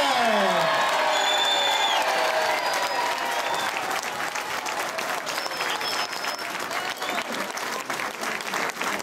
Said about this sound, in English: Give a round of applause to Governor David Paterson.